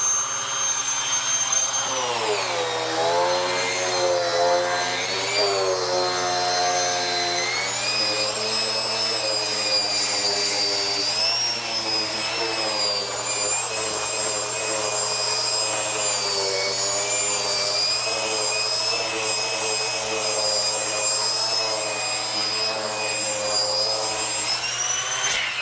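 A detailing vacuum fitted with a turbo brush cleans car carpet, a loud continuous whine whose pitch wavers and dips as the brush is pushed across the pile, running unbroken throughout.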